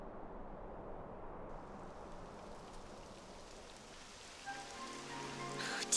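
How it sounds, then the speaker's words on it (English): Rain falling in the video game Dragon Quest 11 S, a steady soft hiss of rainfall on surfaces, fairly faint and continuous, with a brief brighter chiming effect near the end. "It would have to go and start raining, wouldn't it?"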